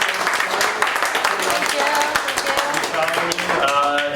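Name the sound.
audience applause for Melissa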